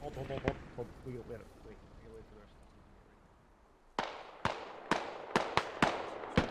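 Gunfire crackles through a tactical battle in the video game Squad, a run of sharp, loud shots spaced irregularly after a stretch of voices and quieter ambience.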